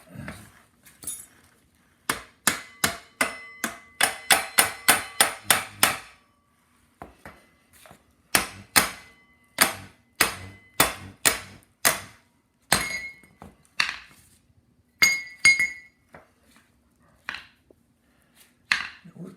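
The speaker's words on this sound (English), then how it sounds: "So we're pulling this bolt out, and if we're really lucky, it'll tap out fairly easy." Hammer blows tapping a bolt out of the steering on a 1979 Ford F-150, sharp metallic strikes in quick bursts of several hits with brief pauses between, close and loud.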